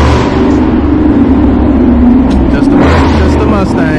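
A Ford Mustang engine passing at a truck show, a loud, close motor drone that swells and shifts as it goes by, with people talking over it.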